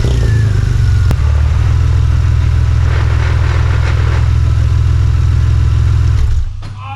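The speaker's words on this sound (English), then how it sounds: "We just started the car up with no drive shafts connected and no LSD in the car." A Porsche engine runs with a new gearbox fitted and no differential or drive shafts connected, a loud steady droning hum close by that cuts off near the end.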